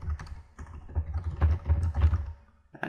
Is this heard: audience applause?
no